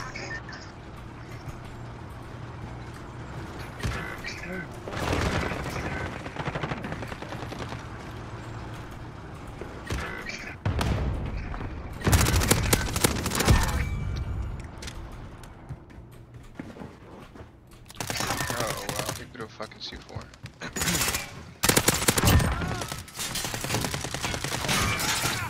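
Bursts of gunfire from Call of Duty Modern Warfare, with rapid volleys and louder clusters of shots over a steady game background, fairly close, with no talk.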